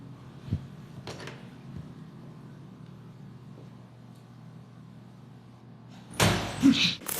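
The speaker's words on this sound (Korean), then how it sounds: "문이 쾅 닫히는 소리가 화장실 전체에 울려 퍼졌습니다." A toilet stall door in a public restroom slams shut on building CCTV footage, a sudden loud bang near the end after several seconds of faint, hollow room hum and a few soft knocks.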